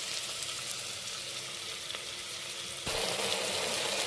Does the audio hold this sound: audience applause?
no